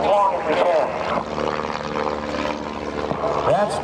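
Propeller aerobatic airplane at an airshow flying knife edge, its engine droning loud and continuous with rising and falling pitch throughout, while a commentator talks over it.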